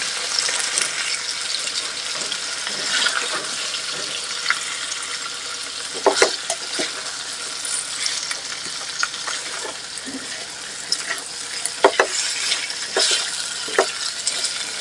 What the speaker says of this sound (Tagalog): Gisa-gisa muna natin itong chicken hanggang medyo mag-light brown din siya